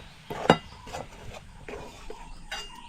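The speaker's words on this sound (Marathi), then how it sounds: "हे पीठ असं चांगलं असं परतून घ्यायचं." Kulith flour roasting with onion in a pan, stirred with a utensil that clinks and scrapes against the metal in sharp irregular knocks over a faint sizzle.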